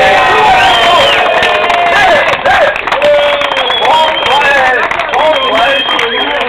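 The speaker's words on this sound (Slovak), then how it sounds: "Potlesk!" Crowd at a Jawa motorcycle grand prix in Bernolákovo clapping and cheering under a loud, excited announcer speaking over a PA, with voices shouting throughout.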